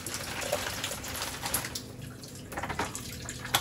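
Homemade simulated rain at a moderate intensity, a steady broadband patter of water drops falling continuously with no pauses, close and fairly even in loudness throughout.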